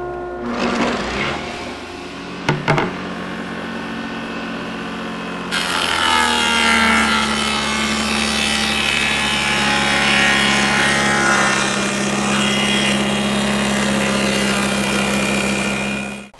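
A power saw cuts a groove into a wood panel for a lathe station. After a few short bursts it settles into a steady, loud, continuous whine and rasp that runs to the end.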